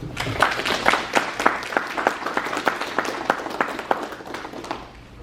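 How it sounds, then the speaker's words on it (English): A room of cadets and guests applauds the color guard commander at a cadet visit, a steady wash of many hands clapping at moderate loudness that fades toward the end. "May you please give him a round of applause."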